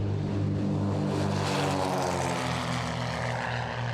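The Aurus 30 reconnaissance airplane, a propeller aircraft of a departmental fire and rescue service, drones steadily overhead with a continuous buzzing engine note that stays loud and unbroken throughout.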